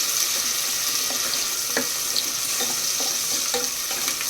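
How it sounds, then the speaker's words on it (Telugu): Sliced onions and green chillies fry in a pan for prawn biryani, a soft continuous sizzle broken by a few faint stirring taps and clicks, with no talking. "ఈ ఆనియన్స్ పచ్చిమిర్చి కొంచెం గోల్డెన్ బ్రౌన్ కలర్ వరకు ఫ్రై చేసుకోవాలి"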